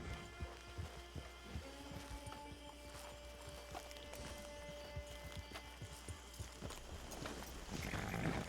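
Horse hooves clip-clop at a steady walking pace in Red Dead Redemption Online while riding up to a camp. The hoofbeats are close and even, with sustained tonal game music underneath.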